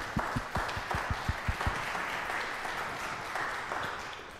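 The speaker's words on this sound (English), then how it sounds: "Before we do a final round of applause for our speakers" Audience applause for speakers at an evening panel on affordable housing, a burst of clapping from a modest crowd in a hall, brisk at first and then thinning out, fairly faint and roomy.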